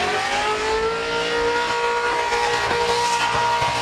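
Ken Oath's car engine revs high and hard, a loud, sustained, steady mechanical whine with strong tonal harmonics holding for several seconds, close and continuous, with no talking over it.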